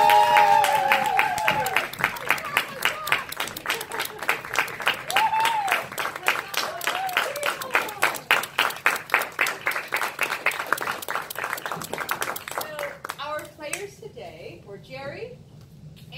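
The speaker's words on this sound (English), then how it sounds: "nothing revives an actor like applause" An audience claps after a stage play, loud and close, with voices calling out and cheering at first, then settling into brisk, rhythmic clapping that thins out near the end as talk returns.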